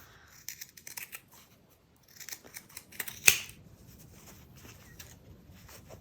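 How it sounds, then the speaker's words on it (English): Scissors snip through sewn slipper boot layers, trimming the seam allowance including a stiff vinyl layer, in short quiet bursts of close crisp cuts, with one sharper loud snap partway through. "I'm just going to trim the seam allowance down a bit to cut down on some of the bulk"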